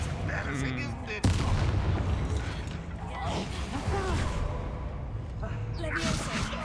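Confringo explosive spell cast in the Hogwarts Legacy video game, a sharp loud blast near the start followed by continuous rumbling game effects and crackling impacts, with speech over the sound.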